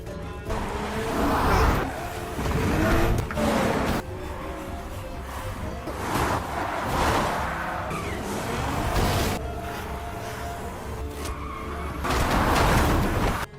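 A car speeds and skids during a chase through a post-apocalyptic, zombie-overrun landscape in Train to Busan Peninsula, with surging engine bursts and tyre screeches rising and falling several times over a rumbling backdrop.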